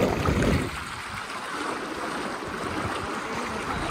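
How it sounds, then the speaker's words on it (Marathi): Rushing seawater churns and drains back into the ocean on a beach, a broad continuous wash with a louder surge at the very start. "म्हणतो ना की समुद्राचं पाणी समुद्रात खेचतंय बघा"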